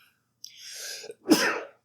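A single sneeze, with a short inhaled buildup followed by a sharp, close burst of breath, then quiet.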